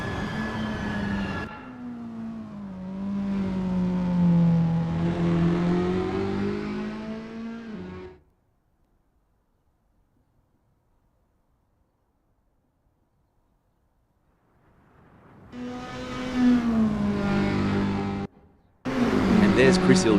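Toyota S-FR race car on an out lap at Genoatrack Uno in Assetto Corsa, engine droning and rising in pitch, then cutting to silence before returning, with a voice talking over it.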